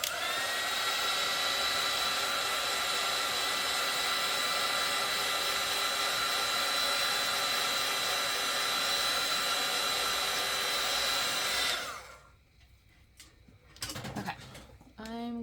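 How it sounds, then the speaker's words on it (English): A heat gun blows steadily on an ink drawing sketched with Micron pens, a loud continuous whooshing roar lasting about twelve seconds before cutting off, followed by a few faint clicks and handling noises. "I'm going to hit this with my heat gun real quick so that I don't mess up my microns."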